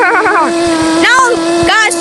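A car in the Yeeps video game gives off a steady, droning engine hum that runs under excited overlapping voices.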